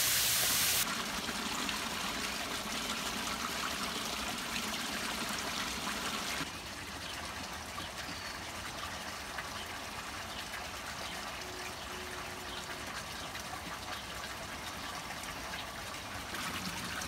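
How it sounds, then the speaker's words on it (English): Steady, continuous rush of water pouring in to top up a garden koi pond, a constant close trickling wash with a slight drop in level partway through. "Okay, so I just top up the pond."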